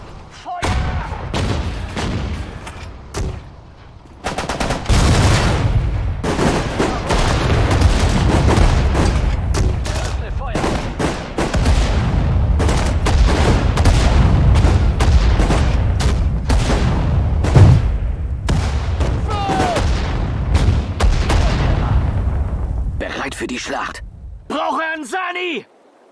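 Gunfire and artillery boom in the Sudden Strike 4 WWII strategy game during the Battle of Lille: dense bursts of shots and heavy thuds pile up loudly for most of the stretch, with voiced unit commands speaking over the battle.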